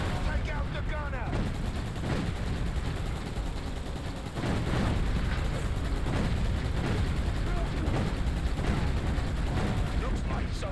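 Sustained gunfire and blasts in the Xbox video game Roadkill, a loud, unbroken barrage of rapid shots and rumbling impacts over ten seconds, with a voice briefly shouting amid the chaos.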